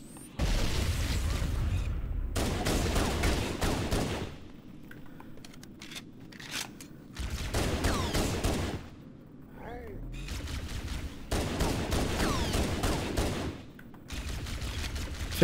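Loud bursts of weapon fire from the shooter game Halo Anniversary, with several sustained volleys of rapid shots separated by brief, quieter gaps filled with game ambience.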